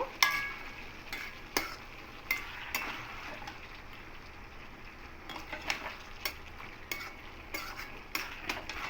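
A utensil stirs bottle gourd and fried prawns in a pan with repeated scraping clicks against a steady sizzle over a medium flame, irregular in rhythm and close by, with no one talking.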